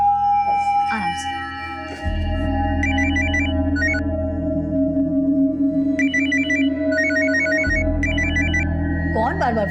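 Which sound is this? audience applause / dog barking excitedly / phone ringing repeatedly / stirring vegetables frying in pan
phone ringing repeatedly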